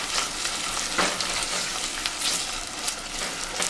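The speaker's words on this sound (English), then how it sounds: "I'm frying this tin tomato so that the rice would not taste sour" Canned tomato frying in a pot for jollof rice, a dense continuous sizzle with soft stirring scrapes, close and steady throughout with no voices.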